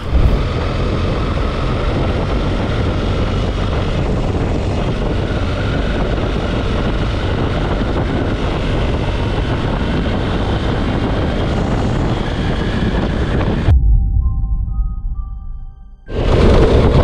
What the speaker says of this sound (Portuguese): Bora ligar a moto aqui, ó.